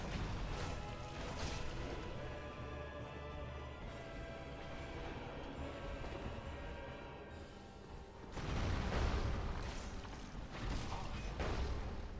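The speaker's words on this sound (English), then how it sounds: "almost got caught in the explosion again" A large explosion goes off in Dark Souls, a dense, loud roar that holds steadily for several seconds and then swells into a heavier second burst near the end, with no talk over it.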